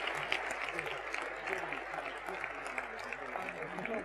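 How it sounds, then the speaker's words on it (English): Audience applause fills a presentation at a healthcare conference awards ceremony, a steady broadband patter of many hands that runs without a break at moderate level for the whole stretch. "Hand the certificates over for a round of applause."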